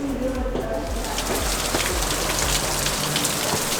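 Spray from Staubbach Falls in Lauterbrunnen, Switzerland, comes down like heavy rain in a continuous, dense hiss of pattering water, loud and close, with faint low thumps underneath.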